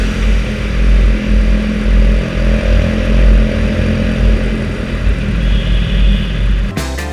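A TVS Apache motorcycle rides through a tunnel, its engine a loud, continuous roar with a low, boomy rumble that swells and fades steadily.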